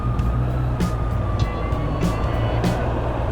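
A 2025 Honda CB650R with E-Clutch idles and runs steadily, its engine drone holding a constant low rumble for the whole stretch, with light clicks and a faint high whine layered on top.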